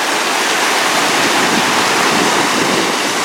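The Rio Grande del Norte flows with a loud, steady broadband rush of water, continuous and close, with no voices.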